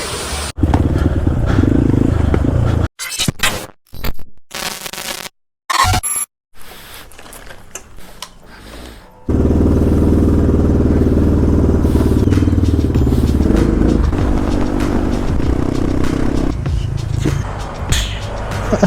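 Motorbikes ride offroad on a rough trail in Idukki. Their engines drone loudly and close, with sharp cut-outs and bursts early on, then a long continuous roar that varies in pitch as they work over the terrain.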